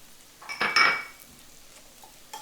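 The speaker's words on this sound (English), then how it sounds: "And then we're going to mix in 1/4 cup of some raspberry preserves. And we'll get that all blended in together." A spoon scrapes and clinks against a pan as raspberry preserves are stirred into a chicken mixture for chocolate raspberry balsamic chicken, with a short burst of close metallic clatter and then quiet.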